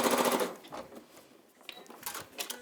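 An Elna 720 PRO sewing machine runs a zigzag stitch: a loud, fast, rattling mechanical hum in close-up that opens strongly, drops back, then returns in shorter bursts.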